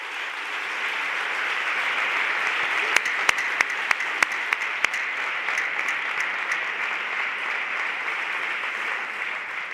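An audience applauds in memory of Álvaro Domecq, a long, steady roll of clapping with a few sharp, close claps standing out near the middle.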